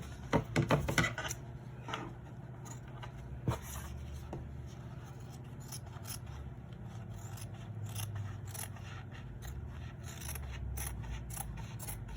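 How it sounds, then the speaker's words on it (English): Scissors snipping through paper while cutting out a piece for a collage background, close and fairly quiet, with quick clustered snips at the start and steady cutting strokes and rustling continuing throughout. "I'm going to cut this out."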